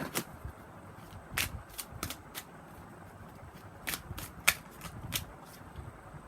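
Tarot cards are shuffled in a quiet room, giving repeated crisp riffling snaps and soft flicks that come in irregular bursts, close and fairly faint, with no talking.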